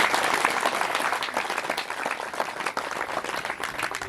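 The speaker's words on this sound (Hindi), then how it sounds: "अरे एक बार तालियां तो बजा दो" A crowd at a Hindu religious gathering, a katha with saints in Una, Himachal, claps in sustained, dense applause that holds steady throughout, loud and continuous, with no distinct voices rising above it.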